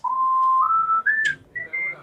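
A clear, synthetic whistle-like tone plays a short melody, gliding upward through sustained notes with brief gaps, close and fairly loud.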